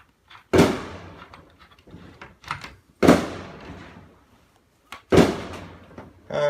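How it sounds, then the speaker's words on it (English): Fireworks burst outside in three loud, sharp booms spaced a few seconds apart, each trailing off with crackling decay, with fainter pops scattered between them. "And the fireworks are going off."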